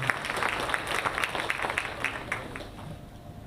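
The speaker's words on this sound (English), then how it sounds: "Let us give a big round of applause for welcoming" Audience at a book release function claps in welcome, a fairly faint, thinning round of applause with individual claps standing out as it fades.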